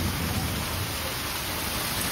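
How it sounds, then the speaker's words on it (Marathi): Heavy monsoon rain pours steadily in Konkan during a thunderstorm, a dense, loud, even roar with deep rumbling underneath and no voices. "पाऊस काही कमी व्हायला तयार नाही आहे मंडळी. बाप रे बाप, विजांचा जोरदार कडाका."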